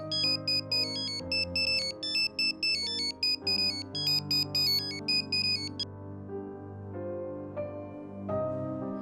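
A phone ringtone plays as a bright, repeating electronic melody over layered chords, loud and continuous for about nine seconds with no voices.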